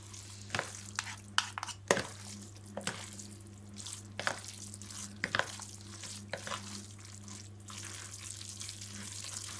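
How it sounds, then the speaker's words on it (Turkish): A spinach and noodle börek filling is mixed in a bowl, with repeated wet squelching and clinking stirs in an irregular rhythm over a low steady hum, quiet and close. "Şimdi bunu güzelce bir harmanlıyorum"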